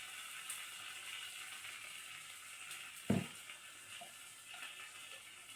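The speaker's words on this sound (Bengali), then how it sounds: "গ্যাসটাকে একটু কমিয়ে মশলাগুলো ভাজবো" Spices frying in a pan of oil with salt stirred in, a steady soft sizzle throughout and one short knock of a utensil midway, faint and close.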